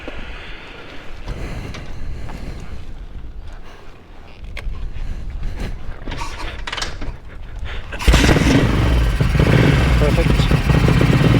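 A Ducati 900SS bevel-drive motorcycle engine with Dellorto carburettors runs on choke, with uneven blips of throttle before it roars louder and steadier in the final seconds, close by, with a voice speaking over it.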